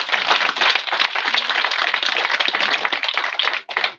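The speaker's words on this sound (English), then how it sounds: "Can we give a round of applause for him?" Dense applause from a school hall crowd at a commissioning ceremony for a senator, steady and loud for about four seconds before briefly dipping near the end.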